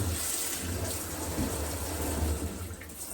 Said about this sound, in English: You can probably tell by the sound of the shower how powerful this really is.